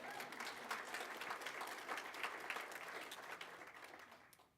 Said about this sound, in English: you should clap for Rhonda